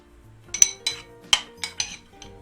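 A spoon clinks against a bowl while a tomato and vegetable filling for gözleme is mixed, with six sharp, close clinks spaced irregularly over a couple of seconds.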